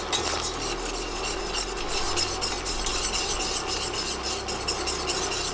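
Cheese sauce whisked in a pan gives a close, steady, rhythmic scraping swish against the pan bottom, with faint sizzling underneath and no voices.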